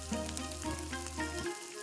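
Cumin seeds, broken dried red chilli and curry leaves frying in hot oil for a tempering, a close, lively crackling sizzle with small pops that dips briefly near the end.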